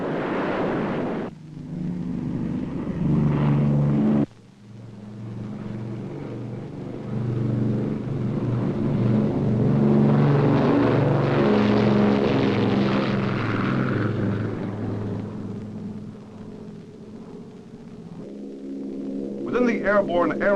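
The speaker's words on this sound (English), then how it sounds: "the planes of the Air Task Group began taking off" Military propeller planes of an Air Task Group take off one after another, engines swelling into a loud, rising roar that peaks midway and fades, with brief cuts between passes and no talk.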